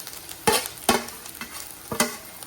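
Grated coconut khoa being stirred into hot ghee in a pan, with three or four sharp scraping strokes against a soft, steady sizzle, close and clear.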